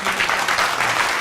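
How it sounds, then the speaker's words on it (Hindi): An audience at an Urdu literary gathering claps steadily, with dense, even applause filling the whole moment and no voices over it. "तालियाँ।"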